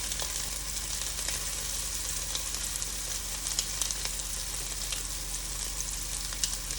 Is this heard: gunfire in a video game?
no